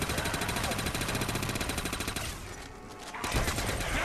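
Rapid machine gun fire in Call of Duty Der Riese Zombies, a dense stream of fast shots that stops for a moment and then resumes, loud and close.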